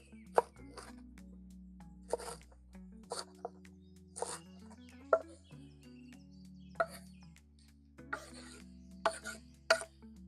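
Knife chopping vegetables on a board, cutting strips crosswise for chakalaka at a braai, with several sharp irregular chops in bursts over a steady low hum.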